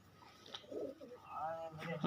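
Pigeons kept by a fancier coo in low, rolling bursts, close by, with a louder flutter near the end and a voice briefly audible.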